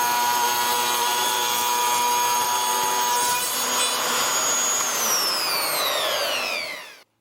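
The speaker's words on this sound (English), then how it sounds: "rebate the edge." A power tool cuts a rebate along the edge of a wooden cabinet piece, a loud continuous whine with a steady pitch that bends downward near the end before stopping abruptly, heard alone.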